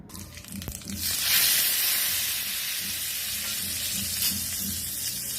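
Hot oil sizzles and crackles steadily after a brief clatter, a close, bright frying hiss of cumin and asafoetida tempering that holds on without talk.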